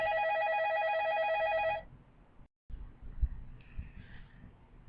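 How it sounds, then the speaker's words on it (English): A telephone rings with a bright electronic trill for nearly two seconds, then stops abruptly, leaving quiet room sounds and faint handling noises. "The phone is ringing."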